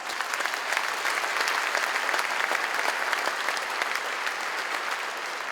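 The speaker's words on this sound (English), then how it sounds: "Give yourselves a huge round of applause." A comedy festival crowd gives a sustained, dense round of applause, many hands clapping steadily and loudly for over five seconds at a gala show.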